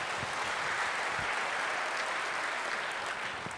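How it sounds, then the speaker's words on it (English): An audience at a public affairs event applauds, producing steady, dense clapping that holds at an even, moderate level throughout without voices. "let's give a round of applause to our Check and Innovation team"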